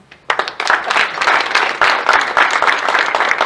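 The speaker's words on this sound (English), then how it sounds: "that deserves an applause" Audience applause at an ICAI chapter seminar on start-up valuation, a dense burst of many clapping hands starting abruptly and holding steady and fairly loud for several seconds.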